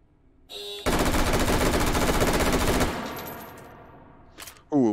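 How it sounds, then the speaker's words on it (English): Sustained full-auto gunfire from a weapon in the video game Hot Dogs, Horseshoes & Hand Grenades, a dense loud burst of about two seconds that cuts off and leaves a fading echo, followed by a couple of brief clicks. "Let's go full auto and let's see if I can get a better reaction time."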